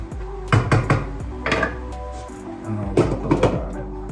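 Greens with vinegar being stirred in a pot, with several sharp clanks and scrapes of a spoon against the metal in irregular bursts, fairly close and loud, and no voices.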